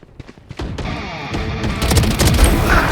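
Gunfire in the video game Valorant builds from scattered single shots into dense rapid bursts, loud and close, with booming impacts and no talk.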